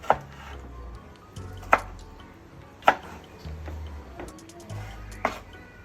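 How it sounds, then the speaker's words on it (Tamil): A knife roughly chops dragon fruit skin on a board, giving four or five sharp, close knocks spaced about a second apart over a low background hum. "இந்த தோலையும் நம்ம சும்மா ரஃப்பாக கட் பண்ணிக்கலாம்"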